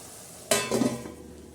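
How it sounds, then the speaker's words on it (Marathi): Onion greens vegetable cooking in a pan gives a sudden burst of sizzle with a few stirring scrapes, then settles into a softer, steady frying hiss, close and alone. "तोपर्यंत ही भाजी आपली छान अशी शिजत आहे हे बघा"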